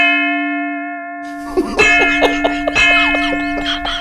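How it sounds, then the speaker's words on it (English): A cowbell rung at the close of a markets news show, one long sustained bell tone that keeps ringing while a quick series of sharp clanks and knocks follows over it. "Ring the cowbell"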